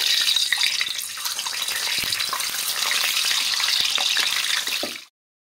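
Eggs fry in hot oil in a pan, giving a continuous bright hissing sizzle, close and fairly loud, that stops abruptly near the end.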